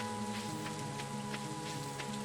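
Steady rain pouring in the Stardew Valley farming game, a continuous dense patter with a faint tonal background hum and no talking.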